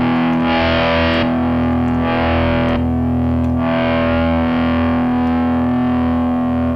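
Distorted electric guitar through a Preamp Mkii with expression pedal settings changing, a loud sustained chord whose brightness swells and dips repeatedly as the pedal sweeps, with no talking.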